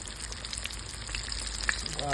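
Steady, dense sizzling and crackling of chicken frying in hot oil, close by, with a constant hiss throughout.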